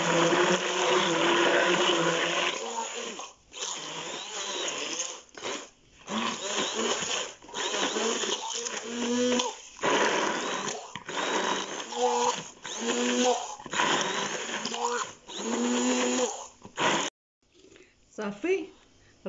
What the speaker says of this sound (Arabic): صافي دابا غادي نقبط هاد الخلاط